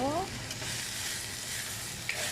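Onions frying with salt in a pan for a Tamil drumstick dish, a steady close sizzle that carries through the whole stretch, with a faint stir or clink near the end.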